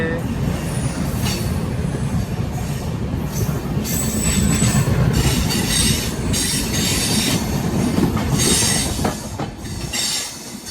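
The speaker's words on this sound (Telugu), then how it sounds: "దువ్వాడ నుంచి అనకాపల్లి దాకా మన ట్రైన్ లేపిపోయాడండి" The Visakha Express rumbles loudly along the tracks at speed between Duvvada and Anakapalli, wheels clattering and squealing without pause, heard close from onboard.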